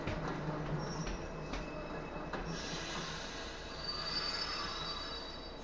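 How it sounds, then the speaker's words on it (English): A video-game train rumbles in steadily with metallic wheel squeals rising toward the end, moderately distant and continuous, no voices. "The train will be arriving shortly."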